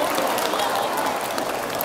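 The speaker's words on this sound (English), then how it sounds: "Go ahead and clap for great at numbers." Middle school students clap together in an assembly, a dense, even burst of many hands at close, fairly loud level that holds steady for a moment without letting up.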